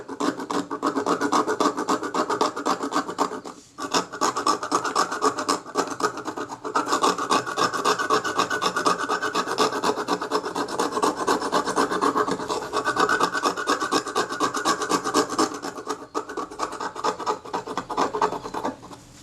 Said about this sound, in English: So I'll just scrape this stuff like this.